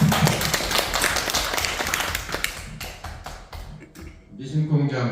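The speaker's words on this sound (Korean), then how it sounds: "잘 오신 박수 한번 주세요." Audience applause at a speech and poetry recitation course at Chung-Ang University, a few seconds of brisk clapping from a room of people, followed by a voice speaking.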